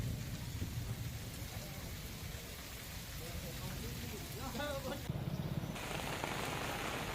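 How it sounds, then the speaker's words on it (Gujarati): Heavy rain with thunder and strong wind pours down in Kenedi village, Kalyanpur taluka, Gujarat, as a dense, steady roar of rain on surfaces with a brief rumbling swell partway through. "કેનેડી ગામમાં ભારે પવન ગાજવીજ સાથે વરસાદ વરસી રહ્યો છે"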